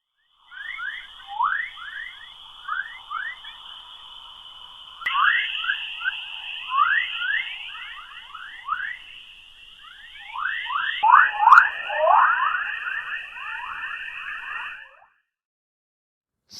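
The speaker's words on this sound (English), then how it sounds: "Sound of Earth." Sonified sound of planet Earth as heard from space: a steady high electronic tone with rapid repeating chirping, alarm-like sweeps beneath it, loud and continuous for about fifteen seconds, with no talk.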